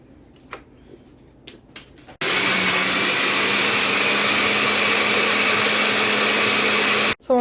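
A countertop blender whirs loudly and steadily for about five seconds as it purees tomatoes, chopped onion, garlic and water into a sauce, with a few faint kitchen clicks before it starts.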